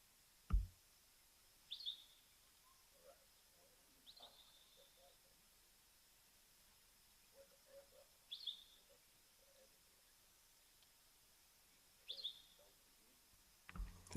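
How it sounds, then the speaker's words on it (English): A sombre greenbul gives a high-pitched whistle at a waterhole, with about four short, thin whistled notes spaced several seconds apart over faint background calls and a quiet outdoor hush. "I know I can hear a somber greenbill, a little high-pitched whistle."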